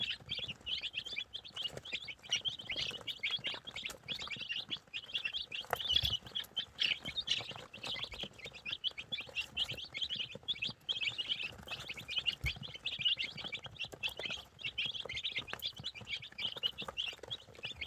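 A crowd of week-old giant light Brahma chicks peeps continuously, with many high, thin chirps overlapping in a busy, unbroken chorus, close by and without talk.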